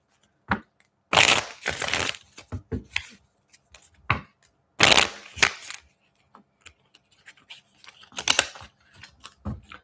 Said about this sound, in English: The cards didn't want to shuffle.